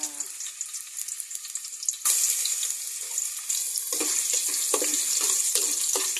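Sliced ginger dropped into hot oil for a Filipino papaitan dish sizzles loudly and steadily at close range, jumping in intensity partway through, with no talking.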